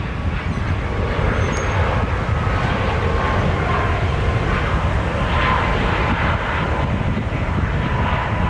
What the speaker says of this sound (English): We got Southwest going to Charleston. That's our next takeoff on 2 Center.